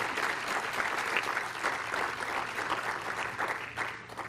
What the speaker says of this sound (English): So I would like a round of applause for her.